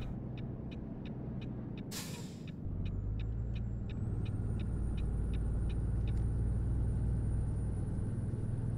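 A truck rumbles along in Euro Truck Simulator 2, a low steady engine drone with a brief hiss of air brake release and regular ticking from the cab, with no voices.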